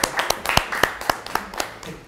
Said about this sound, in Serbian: Ajmo, jedan aplauz za Jovanu,